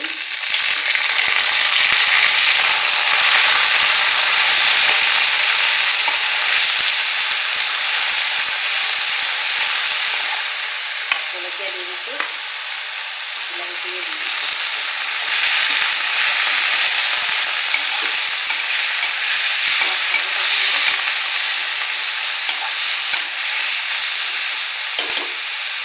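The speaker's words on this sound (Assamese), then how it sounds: "কালাৰটো চেঞ্জ হোৱালৈকে আমি ফ্ৰাই কৰি থাকিম" Food fries in a hot pan until its colour changes, a continuous bright sizzling hiss that stays loud and steady throughout with small crackles and pops.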